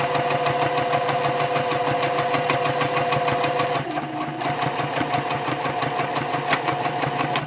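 A sewing machine stitches a scant quarter-inch seam on a key fob card pouch, running steadily close up with a brief slowdown partway through, starting with a back stitch before going forward.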